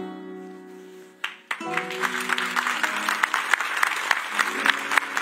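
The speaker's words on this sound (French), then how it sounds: "Je vous laisse l'applaudir encore." Audience applause for a singer on a French television show, starting after a held musical chord fades and building into steady clapping with scattered louder claps and some crowd noise.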